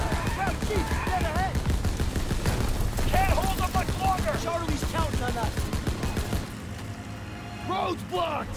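Mounted machine gun firing in Call of Duty: WWII, steady bursts of gunfire running through most of the scene, mixed with shouting voices, engine noise and battle chaos.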